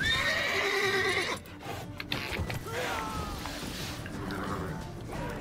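The horse Roach in The Witcher 3: Wild Hunt gives a loud, close neigh, then trots with clip-clopping hooves and faint game sounds, while a player talks quietly in between.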